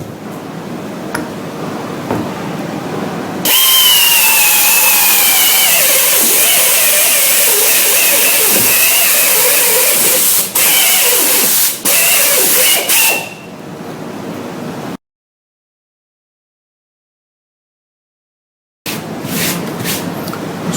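A power drill fitted with a bigger hole saw, used for a spin weld, grinds loudly and steadily for about ten seconds with wavering pitch, then cuts off abruptly, leaving silence and a few short knocks.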